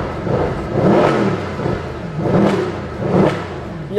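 A Mercedes AMG SLS with a 6.2-litre 571 HP V8 revs loudly and close by in three surging bursts, its roar rising and falling in a rough, brutal rhythm.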